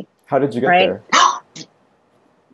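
A dog barks at a cat, two short sharp barks close by just after a person finishes speaking.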